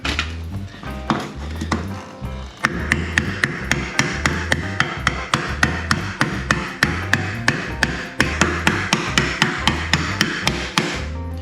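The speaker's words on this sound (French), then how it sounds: "Je vous conseille de le faire avec un marteau parce que à la main vous allez vite vous faire très mal." Repeated hammer taps on kitchen cabinet foot supports while assembling tall kitchen columns, a steady series of sharp close knocks with ringing resonance, about two per second, with no talking.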